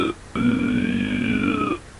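A human voice imitates a pig squeal with an inhaled throat gurgle: one sustained, close, raspy squealing tone lasting about one and a half seconds after a brief lead-in sound.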